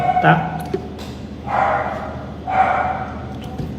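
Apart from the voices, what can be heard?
dog barking outside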